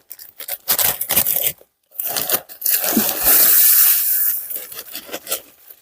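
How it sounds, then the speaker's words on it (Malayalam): Crinkly tearing and rustling of paper packets of shell lime being torn open, several bursts with short pauses between them, close by and fairly loud, with no talking. "ആദ്യം നമുക്കൊരു മൂന്നാല് പാക്കറ്റ് പൊട്ടിച്ചിങ്ങിടാം"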